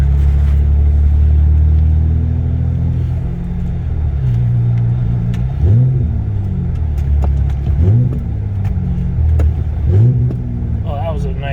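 A 1999 Toyota Camry LE V6 with a five-speed manual, engine humming steadily with a few rising rev swells as it shifts gears, close and loud, with a voice speaking over it.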